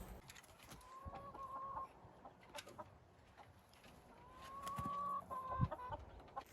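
Chickens cluck and call softly indoors, several short rising clucks and a couple of drawn-out calls spread across the stretch, with faint shuffling and rustling in between.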